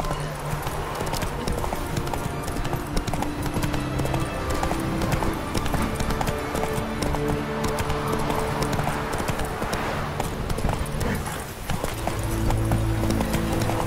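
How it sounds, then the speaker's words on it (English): Horse in The Witcher 3 galloping, with a rapid continuous drumming of hooves close and loud over background music, and a brief whinny. "Run, Roach."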